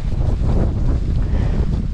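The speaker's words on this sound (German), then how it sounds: "Es ist weniger Regen als total windig." Strong wind buffets the microphone in a continuous low roar on a rainy mountain walking trail, gusting steadily with no voices.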